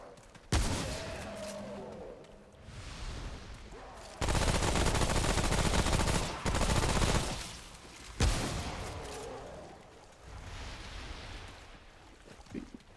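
Apex-style bursts of automatic gunfire in Remnant: From the Ashes on Hell mode, with sustained loud volleys separated by sharp single cracks and quieter stretches of ambient noise, close and heavy, with no talk.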